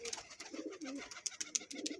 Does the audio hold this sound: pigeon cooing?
yes